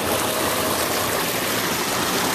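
Water from a hot tub waterfall spills and overflows at a home show, a steady close rushing splash that fills the short stretch without pause.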